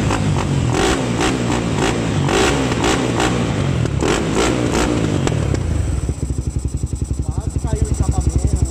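A Honda Falcon motorcycle with an aftermarket Tore exhaust clatters and revs loudly, then drops into a rhythmic, pulsing idle. Close by, with no speech.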